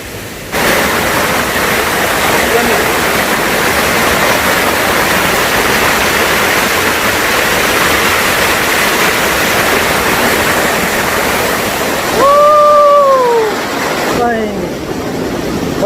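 A waterfall on the Panding Magarang trail in Sabah roars loud and steady throughout. Near the end a voice briefly speaks over it.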